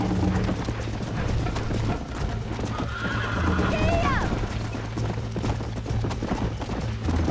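A tired horse in the Red Dead Redemption video game gives a short neigh midway through, faint under dense game noise and ongoing speech.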